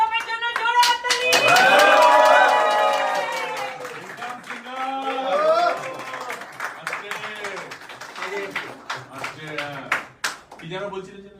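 A film-event audience claps loudly in a dense, sustained burst, while a voice speaks and calls out over the applause, which thins into scattered claps toward the end.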